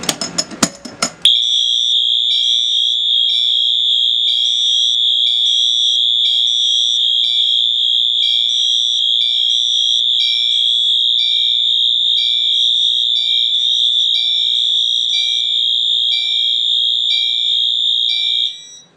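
Fire alarm horns sound during a fire alarm system test, a loud, steady electronic tone pulsing continuously for about seventeen seconds after a brief rustle, then cutting off abruptly.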